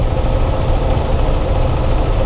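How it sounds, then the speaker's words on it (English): Vehicle engines idle in a stalled Bogota traffic jam, a close, steady low rumble and vibration that holds without a break, with no voices. "Complete traffic jam."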